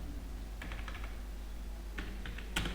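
Java calculator code is typed on a computer keyboard in the NetBeans editor. Soft, close key clicks come in a few short bursts separated by pauses, over a faint steady background hum.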